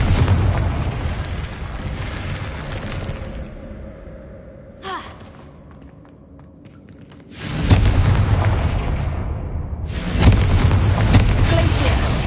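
Explosions from the Confringo fire spell in Hogwarts Legacy land as loud booming blasts, one dying away into near quiet before two more heavy bursts follow.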